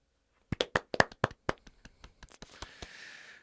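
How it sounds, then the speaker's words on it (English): A few people clapping in a small room, a burst of close, sharp individual claps that thins out into scattered taps before a brief hiss of background noise. "Please clap."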